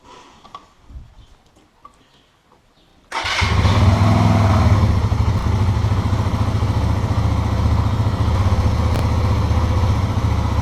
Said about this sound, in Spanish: Let's see how it sounds with the stock muffler.